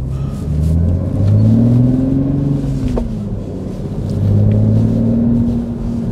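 A Toyota Supra drives past with a loud, continuous engine note, rising and falling through two revving surges as it accelerates, close and clear with no talking.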